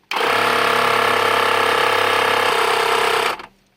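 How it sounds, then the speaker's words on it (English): Portable 12-volt air compressor hooked onto a valve and run from a small battery, a loud, steady, close mechanical buzzing drone with a fast rattling pulse that holds evenly for about three seconds before cutting off abruptly. "So now we've got a portable air compressor here hooked onto our valve here, running it on that little 12-volt battery."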